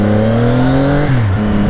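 A 675 NK motorcycle on a break-in ride gives a loud, close engine drone with steady harmonic tones that drop in pitch as it shifts or eases off, then hold steady again.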